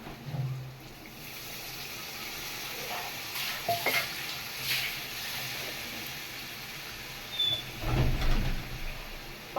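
Tamarind added to pirandai (adamant creeper) pickle frying in a pan, with faint sizzling and occasional scraping stirs and clatters over a quiet, steady background.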